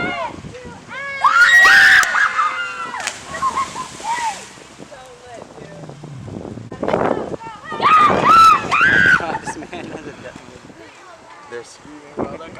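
People at a South Florida bridge jumping spot scream in loud, high bursts, with splashing and nearby talk between the screams.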